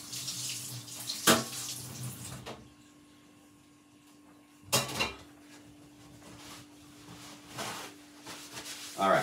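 Pomegranate juice being poured through a strainer, giving splashy liquid pours and trickling bursts with quieter stretches between them, close by under a faint steady hum.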